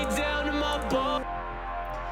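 A thick, buzzy Serum synthesizer tone with a rough, gritty edge, holding sustained notes and shifting pitch, playing alone at a steady moderate level.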